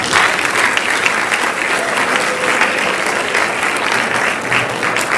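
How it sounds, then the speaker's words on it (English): A graduation audience at a Central High School ceremony for the Class of 2026 applauds loudly and steadily, a dense wash of many hands clapping for five seconds without pause. "Give them a round of applause."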